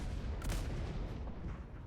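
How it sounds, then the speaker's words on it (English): Harbor cannon firing in a naval warfare video game, a muffled low boom with a brief sharp crack near the start, then a rumbling tail that stays fairly loud. "that one was a harbor cannon, I think"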